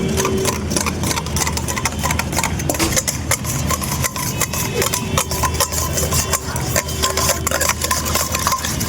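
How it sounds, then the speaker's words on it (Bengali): Eggs are beaten for a fruit cake batter with a fast, continuous whisking and rattling against a bowl, busy and close, with a low mechanical hum underneath. "ডিমটা ফাটাতে ফাটাতে যখন এই বাবলসগুলো বেশি পরিমাণে হয়ে যাবে তখন ভাববে যে ডিমটা ভালো করে ফাটানো হয়ে গেছে"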